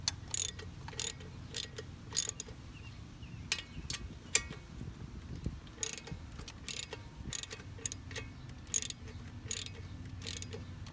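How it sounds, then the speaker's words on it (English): Ratchet wrench with an E8 Torx socket cracking bolts loose on a 6th-gen Nissan Maxima VQ35DE engine, sharp bursts of clicking repeating in short uneven runs over a low hum. "the socket is an E8 Torx bit, so we're just gonna stick it on and we'll crack them loose."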